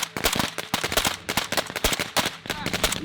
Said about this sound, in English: Beginning with simulated artillery, then a volley of fire from the dark.